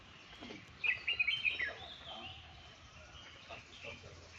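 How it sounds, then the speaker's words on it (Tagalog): Birds chirp and sing in Kowloon Walled City Park, a short burst of bright tweets standing out clearly against a quiet, faint background. "Huni ng ibon,"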